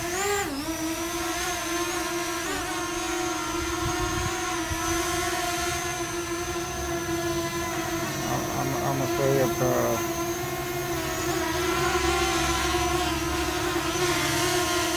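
A Holy Stone HS510 drone hovers close by in light wind, its rotors producing a steady high-pitched whine that holds evenly throughout, with slight shifts in pitch as it turns.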